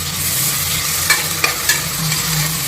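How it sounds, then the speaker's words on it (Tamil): Onions, green chilies and ginger-garlic paste sautéing in a pan for chicken biryani, with a steady sizzle and a few sharp spatula scrapes and clinks against the pan, close and alone. "இப்படி வதக்கலாம்"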